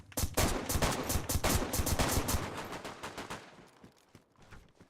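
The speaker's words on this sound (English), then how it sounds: "Right, we got a machine gun now" A machine gun fires in the video game DayZ, loud rapid bursts of shots for several seconds, then slowing to scattered single cracks before stopping.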